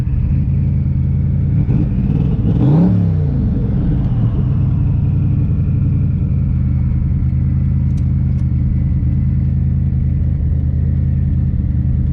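A twin turbo Cobra pulls hard under high boost, its engine a loud, steady close rumble that climbs in pitch early on and then holds a sustained drone for the rest of the run.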